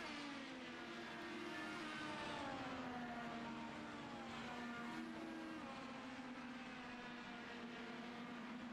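Engines of IndyCar race cars in a CART video game at the Brickyard Grand Prix, a sustained loud whine with overlapping pitches that rise and fall as several cars run spread out, unbroken and without talk.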